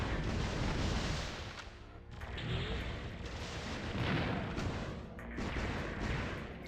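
Booming cannon blasts in a retro console video game, a few heavy explosive bursts separated by short gaps, loud and alone with no talk.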